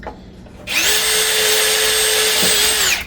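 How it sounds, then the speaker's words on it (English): Power drill boring a wiring hole through a bass guitar body, a loud steady whine that starts abruptly, holds for about two seconds and cuts off, with no talking. "all I have to do is drill a hole and let the wiring go through"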